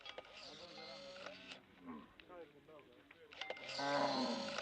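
A prized herd of Shilluk cattle in Sudan lowing repeatedly, several drawn-out moos overlapping near and at mid-distance, louder toward the end, with no talk.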